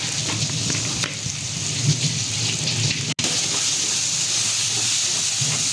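Coriander and cumin powder frying in a pan make a steady, close hiss that runs almost unbroken, with a brief dip partway through.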